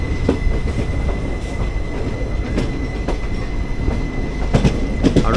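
A Mangalore-Mumbai CSMT superfast express train rolls into Ratnagiri station, its wheels rumbling steadily with rhythmic clacks over rail joints and a faint squeal, heard loud from on board.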